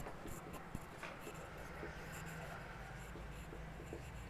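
Marker or chalk scratches on a board in short strokes and taps, faint and close, under a teacher's talk during a chemistry lesson.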